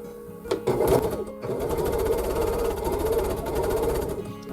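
A sewing machine chain-pieces quilt 4-patch blocks with quarter-inch seams, running in a fast steady whir after a few brief starts and stops, close by.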